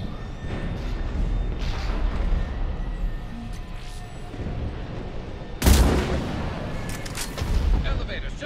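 Assault rifle fire in a Mass Effect 3 battle, scattered shots and booms under continuous talk, with a sharp loud blast past the midpoint and another burst near the end.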